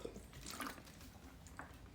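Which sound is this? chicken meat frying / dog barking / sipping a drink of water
sipping a drink of water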